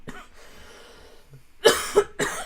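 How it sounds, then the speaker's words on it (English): A person getting over a lingering cough coughs three times in quick succession, sharp close bursts after a quiet pause, with no talking. "I'm just getting over this cough"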